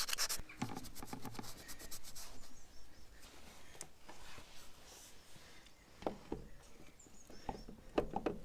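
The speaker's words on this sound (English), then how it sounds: "So just a little bit of emery tape," Emery tape being rubbed around a starter motor mounting hole on a vintage tractor, producing quiet, close scratchy strokes in short rhythmic bursts with pauses between them.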